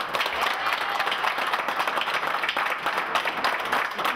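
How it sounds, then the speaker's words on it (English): Dense, steady applause from an audience at a charity poker tournament, loud and continuous throughout with no gaps, sounding like a full room clapping together. "I just want to basically give a round of applause to"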